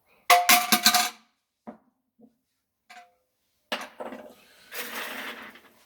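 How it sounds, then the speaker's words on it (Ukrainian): Sharp knocks and metallic clatter as an office chair's gas lift mechanism is hammered loose, a quick burst of bangs followed by a few isolated taps and another rattling flurry, close and fairly loud with no talking. "вибиваємо, збиваємо механізм"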